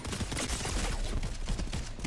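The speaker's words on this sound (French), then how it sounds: "il me tire dessus" Dense, loud Fortnite gunfire crackles in a near-continuous fusillade of rapid shots, with no one talking.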